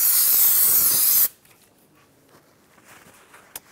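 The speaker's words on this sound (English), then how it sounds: "Brake parts cleaner." A sharp, loud hiss of brake parts cleaner sprayed onto a brake rotor during a front brake job on a 2007-2013 Chevy Silverado 1500, lasting just over a second before cutting off to quiet shop noise and a single small click.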